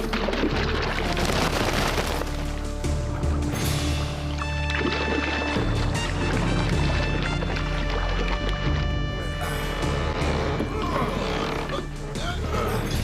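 Crew on an ancient rowing ship cast off with a loud, continuous wash of water, creaking oars and deep rumbling, while a dramatic orchestral score swells over everything; voices call out.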